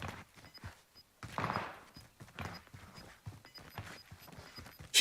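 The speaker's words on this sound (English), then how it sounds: "She can hear footsteps." Footsteps in a video game, faint and distant, tapping in a loose, irregular rhythm over a quiet background with soft scattered game noises.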